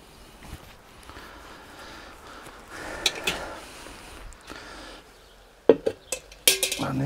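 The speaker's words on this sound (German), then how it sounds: "So, jetzt nehmen wir unseren Topf mal kurz von der Hitze." A Dutch oven is lifted off the heat while Kachelfleisch gyros and noodles cook outdoors over charcoal; soft scraping gives way to several sharp metallic clinks and clanks of the lid and pot near the end, close and fairly loud.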